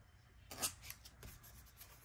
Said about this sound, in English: Okay, let's cut this back.